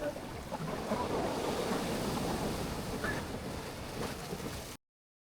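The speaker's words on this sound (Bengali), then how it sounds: "আপনার জাস্ট ঢেউয়ের আওয়াজটা একটু ফিল করতে থাকেন" Ocean waves wash onto a beach at night, a steady roaring surf with wind buffeting the microphone, continuous and fairly loud until it cuts off abruptly near the end.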